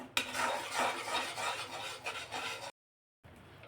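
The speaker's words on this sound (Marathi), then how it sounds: "इकडे आपलं बेसन पीठ भाजत आहे" Gram flour (besan) roasting in a pan while being stirred, heard as continuous close scraping and rubbing strokes. It breaks off briefly into silence, then resumes more faintly.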